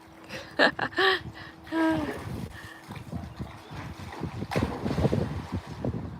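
Gusty wind buffets the microphone outdoors, rumbling low and steady, with brief voices and splashy clatter mixed in.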